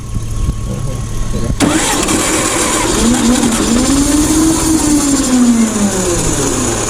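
An old vintage forklift engine, unused for years, cranks and catches, then settles into a loud, steady idle nearby as people talk over it.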